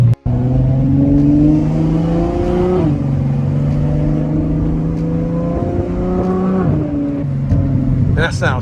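Ferrari F12 fitted with a Frequency Intelligence exhaust revs loudly and close at a car show, the engine note climbing and dropping through several sharp rev rises and falls.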